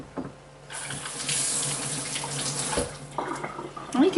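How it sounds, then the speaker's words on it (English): Kitchen tap running as a carrot is washed under it, water splashing steadily into the sink after a brief quiet start, close and moderately loud, with faint handling noises. "Let me wash the carrot."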